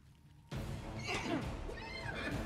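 A sudden loud horse whinny in a video game bursts in after a quiet moment, sounding synthetic, with rumbling noise beneath.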